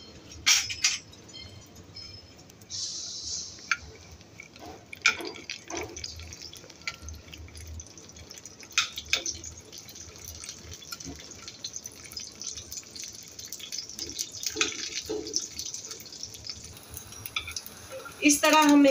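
Bombil fish fry in hot oil with a quiet, continuous sizzle, sparse crackles and occasional clinks of a utensil against the pan, growing somewhat busier near the end.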